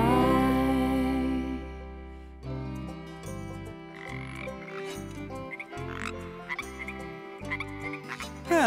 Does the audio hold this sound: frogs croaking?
yes